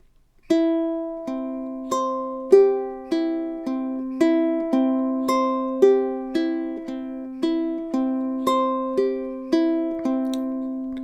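A ukulele fingerpicked in a steady, even pattern of single plucked notes, clear and close, repeating in a gentle three-beat cycle with no voices.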